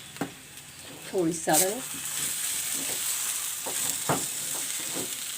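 Potatoes with green chillies and turmeric sizzle in a pan while being stirred, giving a steady crackling hiss with scraping strokes. Someone speaks briefly over the frying.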